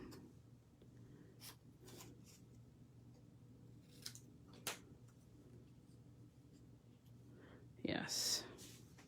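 Scissors cutting out a stamped paper card piece, a few faint close snips and crisp paper rustles in a quiet room, ending in a louder scrape of handling.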